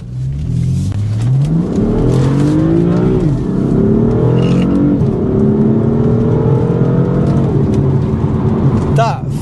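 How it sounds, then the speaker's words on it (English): A performance diesel car accelerates hard through the gears, its engine note climbing repeatedly with shifts and a final rev near the end, loud and close, with someone talking over it. "it's a performance diesel car, and they're quick, very quick"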